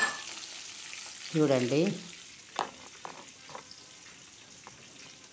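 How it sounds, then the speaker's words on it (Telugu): Green chillies and curry leaves hit hot oil in a pan for a mixed vegetable sabzi, giving a sudden loud sizzling burst that fades into a quieter crackle, with a brief spoken word. "ఇప్పుడేమో పచ్చిమిరపకాయలు, ఆ కరివేపాకు వేస్తున్నాను. ఇవి వేగనిస్తాను కొంచెం."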